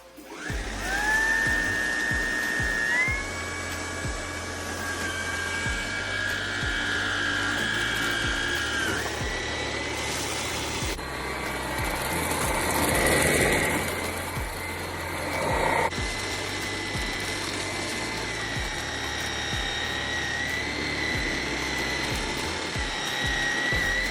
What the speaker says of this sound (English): I got the new Hoover all-terrain vacuum, and let's try it out.